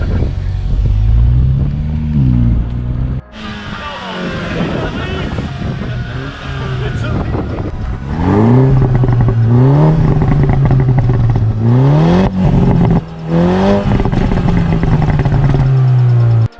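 Car driving down a mountain pass, its engine droning and shifting pitch as it revs and changes gear, with road noise and a voice talking over parts of the run.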